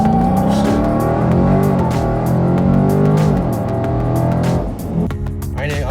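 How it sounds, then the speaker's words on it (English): A 2020 Dodge Challenger 1320 Scatpack launching hard at full throttle, a loud deep engine roar rising in pitch through the gears, with brief shifts and people reacting over it near the end. "I'm about to just floor it."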